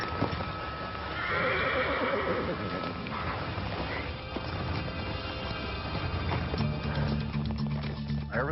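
A horse whinnies loudly up close while hooves clip-clop over ground, with some rustling and a few voices speaking over the animal sounds.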